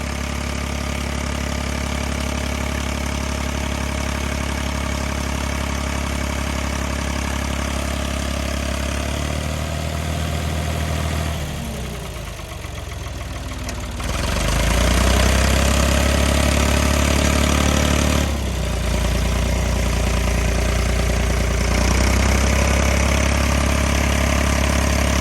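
An old Ford tractor that sat unused for over 40 years runs on a snowy, cold day, its engine chugging loud and close in a steady idle, easing briefly before revving up stronger and holding there.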